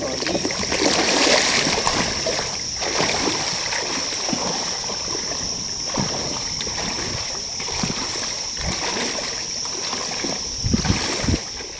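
Water splashes and trickles around a small boat as a paddle dips and strokes, with steady rushing water and occasional knocks close by.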